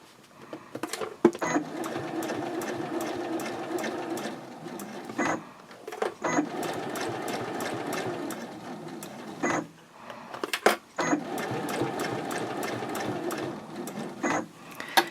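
A home sewing machine stitches the Omnia fabric pouch in three steady, close runs of rapid needle clatter, each separated by a brief pause while the work is repositioned.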